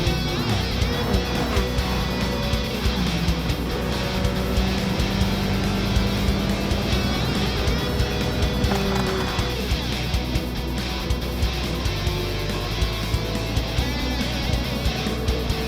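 Race cars roar around a track in a racing video game, with a Firebird, a 240Z and a Focus in the field, giving a dense, continuous engine drone with shifting pitch and pass-bys throughout, loud and steady with no voices.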